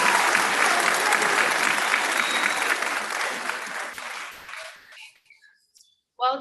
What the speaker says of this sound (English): Can we just give another round of applause to Nikki?